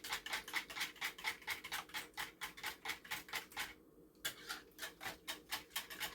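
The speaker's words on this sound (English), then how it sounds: "So you're just going to whisk that in." A whisk beats vanilla into a French toast mixture for a crockpot, making quick, regular ticking clicks against the bowl with a brief pause midway. The sound is close and fairly quiet, with no talking.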